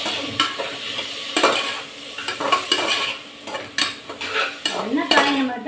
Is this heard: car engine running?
no